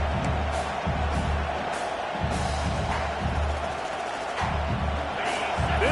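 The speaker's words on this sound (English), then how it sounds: "This crowd bringing the energy and noise early." A large video game stadium crowd at a college football game roars and cheers steadily, a dense wash of noise with swelling surges and a low rumble underneath.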